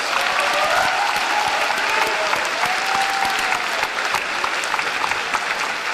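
A large graduation audience at a high school ceremony claps steadily for the staff, dense and even applause holding at a constant level throughout.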